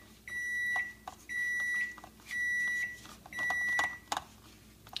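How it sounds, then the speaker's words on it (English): A kitchen oven finishes preheating to 325 degrees and gives four evenly spaced electronic beeps, each about half a second long, clear and moderately loud in a quiet room with a few faint clicks. "So our oven is now preheated to 325, if you could hear that."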